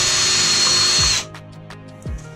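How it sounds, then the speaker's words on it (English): A power drill whines loudly and steadily as it bores a hole through an LED panel, then cuts off abruptly, followed by a couple of low clunks as the tool is handled. "drill a hole in there"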